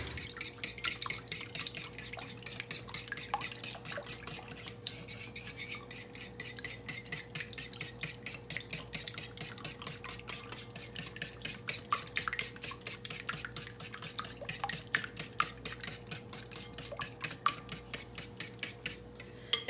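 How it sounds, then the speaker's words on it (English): Melted butter and eggs whisked together in a bowl for a simple holiday dessert, a rapid, steady clinking of the whisk against the bowl that runs the whole time, close and fairly quiet, with no voices. "So we're going to just kind of whisk these together"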